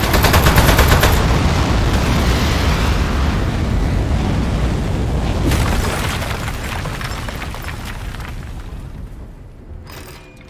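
Heavy gunfire and booming blasts in the video game Aperture Desk Job, a dense, loud, continuous barrage that rumbles on for several seconds and slowly fades toward the end.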